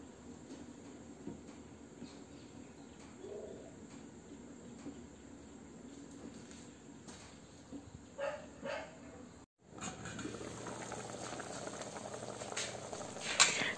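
Steady low bubbling and hiss of water boiling under a lid, continuous throughout, with a brief dropout and a few clinks of the lid near the end.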